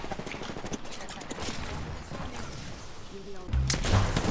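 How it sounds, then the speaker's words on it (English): Gunfire in the battle royale game Apex Legends, bursts of shots and thuds of varying loudness with a heavier volley near the end, mixed under people talking. "Are we still getting shot at?"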